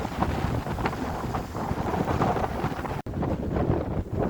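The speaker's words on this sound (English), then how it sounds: "It's quite breezy today, so hopefully you can hear me alright" Strong wind buffets the microphone on the beach between Benacre and Covehithe on a breezy day, a loud continuous rumbling gust with a brief dropout near the three-second mark.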